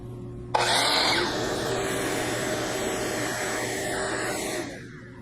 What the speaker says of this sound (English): B is where the shop vac gets plugged into